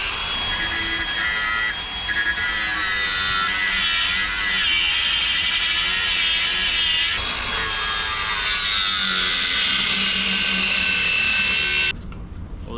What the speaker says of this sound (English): I'll just go ahead and finish it out with the angle grinder